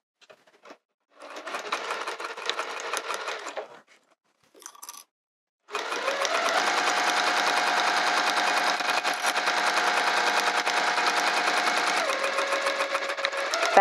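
A sewing machine backstitches a cork wrist pouch: a brief clatter, then a short burst of rapid stitching, a tiny blip, and a long steady run of fast mechanical chatter that shifts in pitch near the end.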